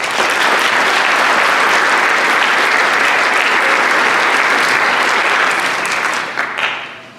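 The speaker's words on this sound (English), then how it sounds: "Let's give them another round of applause." Loud, dense applause from an audience at a National Honor Society induction ceremony, continuous and close before tapering off in the last second.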